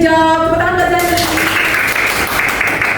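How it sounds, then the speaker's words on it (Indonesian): Classroom applause for a student in an elementary science lesson, a steady patter of clapping that follows a brief sung or spoken tone at the start. "Tepuk tangan buat Zani."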